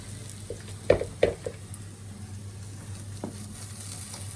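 Cacao, banana and walnut pancakes frying in a pan, a quiet steady sizzle with a few soft scraping knocks as they are pressed down.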